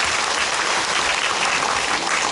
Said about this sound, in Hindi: हमारा बुरुई बदल के लिए भी आप लोग थोड़ा सा ताली मार दीजिए।